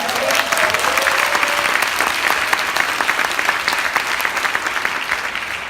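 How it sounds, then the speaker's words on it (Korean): A seminar audience in a hotel ballroom at COEX claps in thick, continuous applause, loud and even from start to finish with a faint murmur of voices beneath. "박수 한번 치셔야 돼요"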